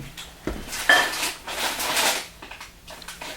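Metal stand mixer attachment clinks and clatters as it is handled and fitted in a home kitchen while making chocolate chip cookies, a few close, sharp knocks and rattles over a quiet room.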